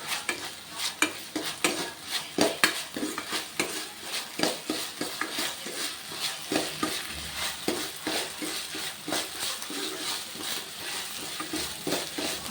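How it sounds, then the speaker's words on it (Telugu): Ginger-garlic paste frying in a pan for palak paneer, a steady close sizzle broken by frequent scraping stirs and light clinks of a utensil against the metal, with no talking. "పచ్చివాసన పోయే వరకు బాగా ఫ్రై చేసుకోవాలి"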